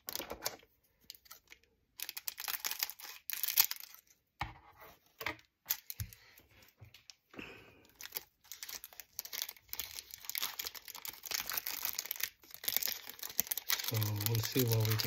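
Intermittent crinkling, cutting and rustling as scissors open a cardboard box of trading cards, close up, in short irregular bursts with brief quiet gaps.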